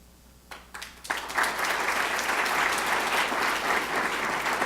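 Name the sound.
audience applauding council members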